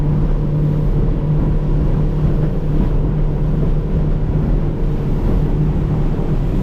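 A Warrior 175 boat's outboard engine drones steadily as the boat rides on the plane, with wind buffeting the microphone and rushing water beneath. The loud, even roar continues throughout.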